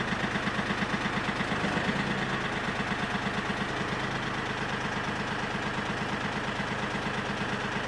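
A tractor engine idles steadily up close, with an even, rapid low chugging pulse and mechanical rattle continuing throughout without change in speed.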